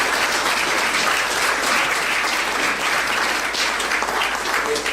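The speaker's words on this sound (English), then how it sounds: "Let's give them a round of applause." An audience claps steadily and loudly throughout at a Rotary Club centennial celebration, with dense, sustained applause filling the room.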